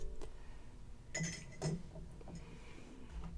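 A whisk combines taco sauce ingredients in a pot for canning, giving faint metallic clinks and taps against the pot in a few quick bursts, quiet and close.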